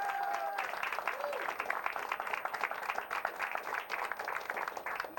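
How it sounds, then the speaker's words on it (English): An audience at a late-night show applauds the announcer with a steady, dense wash of clapping heard from a distance and fairly faint, with a brief voice at the start before the crowd noise carries on evenly for several seconds. "Can we have a round of applause for Jimmy"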